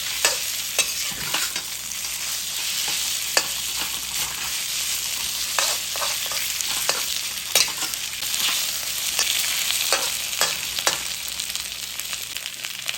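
Chicken pieces fry and get stirred in hot oil for Kung Pao chicken, a steady loud sizzle with repeated scraping stirs breaking through at irregular intervals, no voices.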